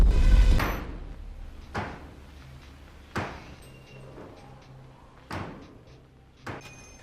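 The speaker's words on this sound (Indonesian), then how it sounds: "Dia kebangun karena pintu kabinnya kebuka" A cabin door in a horror film bangs open and shut several times, each sharp thud spaced a second or so apart, starting with one loud heavy slam and followed by fainter knocks over a low hum.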